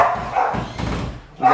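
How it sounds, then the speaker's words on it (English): Little puppies bark and yip in short, close, high bursts over a brief moment, with a faint voice mixed in. "We got little puppies today."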